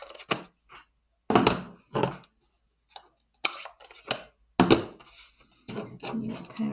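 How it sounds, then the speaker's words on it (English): Big scissors cutting straight lines through scraps of paper for a handmade birthday card, a series of short crisp snips and crunches in separate bursts, close and clear with no talking. "I get my big scissors out because I find it cuts straighter"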